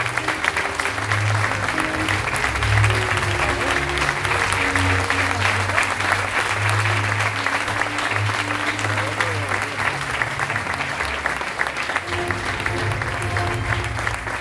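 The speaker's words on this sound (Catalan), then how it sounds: "El aplaudiment per la Gallata Cremor de Castelló." Audience applause at the Exaltació Reina de L'Horta 2019 ceremony, honouring the Gallata Cremor of Castelló: steady, dense clapping from a large crowd that holds for the whole stretch, with musical tones sustained underneath.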